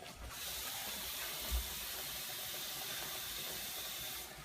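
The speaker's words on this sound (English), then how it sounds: "now that the vegetables started pretty much to kind of boil" Vegetables boiling in a pot on the stove, giving a steady, even hiss and gentle bubbling wash that holds unchanged at moderate level throughout, with no talk.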